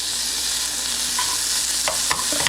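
Food frying in butter in a breakfast pan, a steady broadband sizzle running throughout with a few light stirring scrapes near the end, close and alone without talk.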